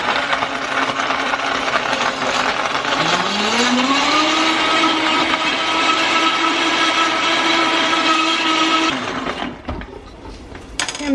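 A sweetened drink with ice, monk fruit and stevia is blended. A loud, steady motor whir ramps up in pitch, holds with a grinding churn for several seconds, then cuts off abruptly.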